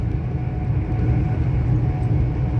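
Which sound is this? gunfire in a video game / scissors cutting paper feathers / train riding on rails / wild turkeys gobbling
train riding on rails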